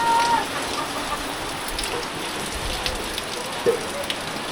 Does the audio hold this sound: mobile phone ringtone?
no